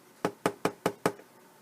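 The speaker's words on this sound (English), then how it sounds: "He tapped lightly on the door." Five light, evenly spaced knocks on a wooden cottage door, crisp and close, each a sharp tap with a short decay, with no voices.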